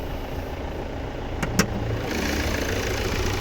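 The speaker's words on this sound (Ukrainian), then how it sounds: "Теж новіший двигун, 2 літра дизель 4-циліндровий" A 2-litre four-cylinder diesel car engine idles close by with a low, steady hum, interrupted by two brief clicks in the middle.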